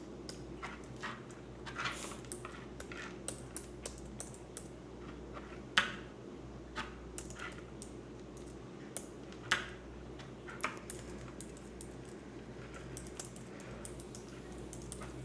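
Someone types personal information on a computer keyboard. The keys give quiet, irregular clicks with a few sharper taps, and there is no talk.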